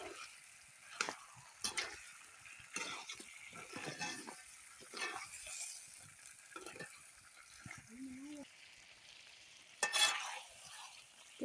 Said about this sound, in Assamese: মাংস ইয়াত ফুলকবি দিছো আৰু গতে মা মছলা বিলাক দি ভাজি আছো